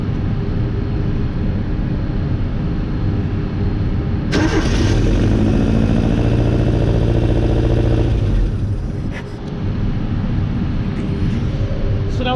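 An Opel Manta engine fitted with motorbike carburettors runs loud and close, catching on the first crank and settling into a steady rough idle with a brief rise in revs.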